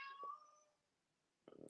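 A house cat gives one drawn-out, fairly clear meow indoors, followed by silence and then a brief rustling noise.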